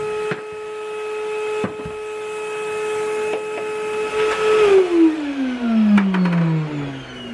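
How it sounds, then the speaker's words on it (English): A vacuum cleaner draws dust out of a vintage Cossor 238 radio cabinet, a loud steady whine that shifts in pitch and winds down as the motor changes speed, with bumps of the nozzle against the wood. "vacuum it out"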